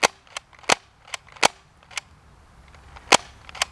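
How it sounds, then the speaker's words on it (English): A Nerf gel blaster pistol fires a quick run of sharp, snappy shots during a chronograph speed test, each crack close and distinct against a quiet background, with irregular gaps between them. "Here we go, FPS test with the Nerf gel fire."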